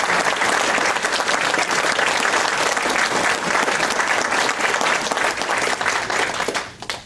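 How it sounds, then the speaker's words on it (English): An audience gives sustained applause for guests at a grants event, a dense and loud clapping that holds steady for several seconds before fading out at the end. "So again, let's give a special round of applause for our guests."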